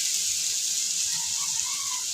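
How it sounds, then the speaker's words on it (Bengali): Potatoes and onions frying together in a pan for a curry, a steady, fairly faint hiss of oil that continues evenly throughout with no voices. "আমি তরকারির জন্য আলু আর পেঁয়াজটা এরকম ভাবে ভেজে নিলাম।"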